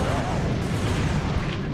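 Plasma coil weapon firing in Ratchet & Clank 2, a loud dense rumbling blast of bursts filling the short stretch, with game noise layered over it.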